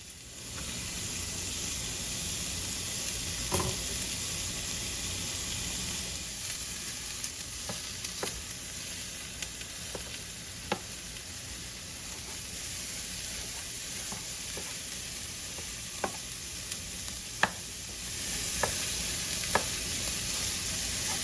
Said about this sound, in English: After sauteing the garlic and onion, I'm going to add the ground beef.